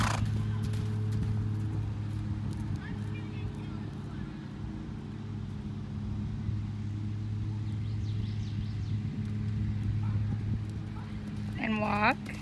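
A horse's hoofbeats on a flat arena as it canters under a rider, a steady soft clip-clop running beneath a constant low rumble, while an instructor gives spoken commands.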